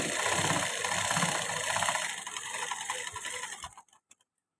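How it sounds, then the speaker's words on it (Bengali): A sewing machine runs steadily while top-stitching a single hook placket strip on fabric, its close mechanical whir going for several seconds before slowing and stopping, followed by a few faint clicks. "এটা কাপড়টাকে উল্টে এর উপর চাপ সেলাই দিয়ে দেবো"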